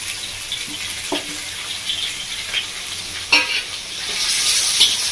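Spices and grated ginger being stirred into onions and tomatoes in a hot frying pan for a ridge gourd fish curry, with a steady sizzle and several distinct scraping stirs of the spoon close by; no talking.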